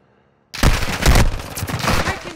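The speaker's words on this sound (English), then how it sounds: "Taking effective fire!" Loud automatic gunfire bursts out abruptly after a short silence in a Call of Duty: Modern Warfare II match. Rapid overlapping shots sustain a dense, close fusillade.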